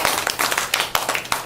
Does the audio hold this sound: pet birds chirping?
no